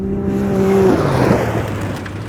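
Can-Am Maverick X3 Turbo side-by-side braking hard, a loud engine tone that drops sharply in pitch as it slows, followed by rough rumbling and wind noise, close by.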